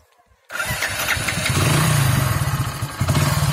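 A Hero Honda CD Deluxe motorcycle engine fires up abruptly and settles into a loud, close, steady idle with a fast, even putter and slight revving throughout, no voices.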